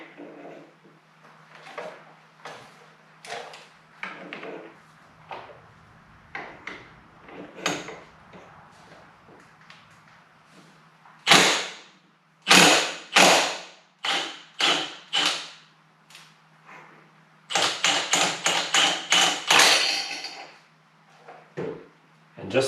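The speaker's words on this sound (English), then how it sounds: "With the clutch hub puller in place, I'm now ready to actually pull the clutch basket" A clutch hub puller draws the clutch basket off a 1985 Harley-Davidson Sport Glide FXRT, giving a run of close, sharp mechanical clicks and ratcheting bursts, growing louder and denser toward the end, with a low steady hum beneath.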